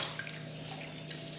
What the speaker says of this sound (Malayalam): മിനിമം ഒരു 3 തവണയെങ്കിലും വാഷ് ചെയ്തെടുക്കണം അരി